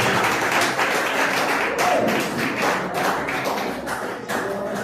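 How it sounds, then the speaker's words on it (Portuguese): A church congregation applauds steadily during a worship service, a dense, continuous wash of many hands clapping at even loudness throughout. "Aplauda a palavra do Senhor"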